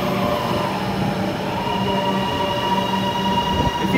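A Comeng suburban electric train sits at a station platform, a loud steady rumble with humming motors, faint squeals and rail clatter throughout, no talking.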